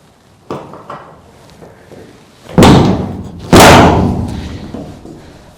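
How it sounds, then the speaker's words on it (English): The heavy steel door of a shipping container converted into a micro workshop is worked shut, with a few light knocks before two loud, resonant metallic thuds about a second apart, each ringing briefly before fading. "When it gets to the end here, there's no leverage, so I kind of put my hand out, keep it from slamming"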